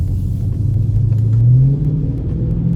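Dodge Charger Scat Pack accelerating hard from inside the cabin, a loud steady engine rumble swelling as revs climb over about three seconds, with no talking.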